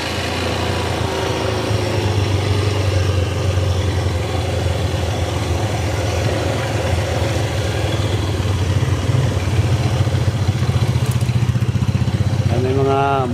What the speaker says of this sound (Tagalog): May mga motorsiklo na dumaan dito.